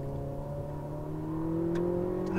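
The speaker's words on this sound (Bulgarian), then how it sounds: "Сега отново ще мина на трета." Ferrari SF90 XX Stradale engine hums steadily as it shifts into third gear, a close, continuous in-cabin drone with harmonic tones rising slightly toward the end.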